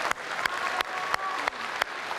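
A live debate audience applauds presidential candidates, producing soft, steady clapping that sounds distant, with a few sharper individual claps standing out.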